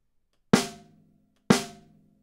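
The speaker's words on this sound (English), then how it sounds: "when you open a default drum kit, your snare is going to sound something like this." Default studio snare drum from a Logic Drummer kit, two isolated hits about a second apart, each a sharp crack with a ringing tail that fades out.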